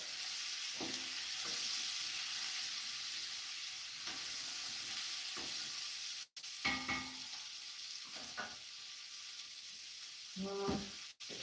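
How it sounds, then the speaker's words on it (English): Onions frying in a pan for pea and ham soup give a continuous bright sizzle and hiss. Occasional scrapes and clatters come as they are stirred, close and moderately loud, with no talking. "Can you hear that sizzle?"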